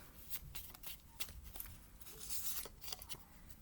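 A deck of tarot cards is shuffled by hand during a card reading, with close, dense riffling and papery flicks in quick rhythmic bursts and no speech.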